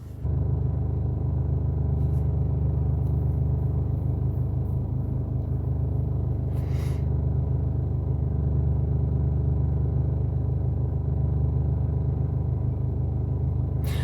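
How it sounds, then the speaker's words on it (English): A car's power steering pump hums with a loud, steady low rumble and faint whine, running continuously and close without a break. "Power steering pump."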